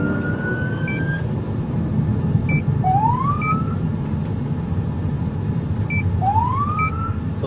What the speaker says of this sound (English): they activated their emergency lights and sirens multiple times.